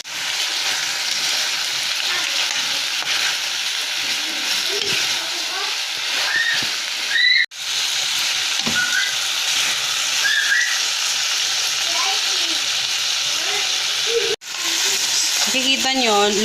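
Pork humba simmering in a pot as the meat's fat renders into the sauce, giving a continuous soft sizzle and hiss with faint bubbling, steady and close throughout, briefly cut twice.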